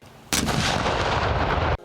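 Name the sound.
cannon salute fired at a memorial ceremony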